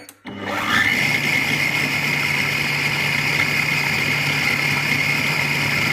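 An electric food processor runs continuously at speed setting 6 while chopping for an apricot sorbet. It starts abruptly with a loud, steady motor whine that holds without talk.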